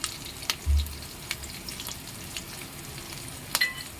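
Suji dhokla batter with coriander being mixed in a bowl, soft wet stirring with a few sharp clicks of a spoon against the side and a low thump near the start.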